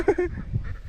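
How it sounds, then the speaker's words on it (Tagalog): Ducks calling outdoors, a couple of short nasal honking quacks close together at the start, followed by fainter low rustling and background murmur. "Itik pala, itik."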